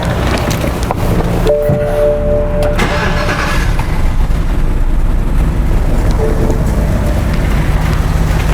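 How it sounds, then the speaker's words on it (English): A 2006 BMW 550i with a camshaft fault code starts up: a brief whining crank gives way to a loud, steady engine rumble heard close, with heavy wind-like roar over the recording. "start this car up and see what we got"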